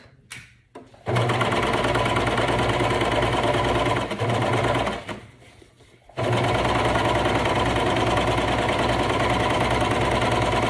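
A sewing machine runs steadily, stitching flare leggings fabric around a curve with a fast mechanical whir, pausing briefly twice before starting up again.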